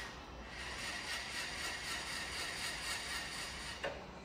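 A Bridgeport milling machine's re-ground table travels on brand new lead screws and nuts, giving a steady, smooth mechanical whir with a faint whine and a small click near the end.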